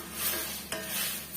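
Tomatoes sautéing in a pan for Andhra-style tomato chutney, a steady close sizzle with light stirring scrapes and a brief clatter partway through, no voices.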